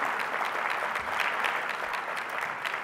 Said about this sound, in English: So let's give our elected officials, our city counterparts, a round of applause.